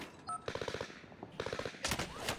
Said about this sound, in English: He's shooting me through the wall